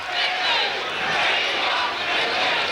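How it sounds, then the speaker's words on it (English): Rugby league crowd at a 1984 Brisbane club major semi-final between Wynnum-Manly and Souths, a broad, steady roar of many voices chanting together in a sustained, fairly loud wash with no clear breaks. "Crowd starting to chant they want 50 here"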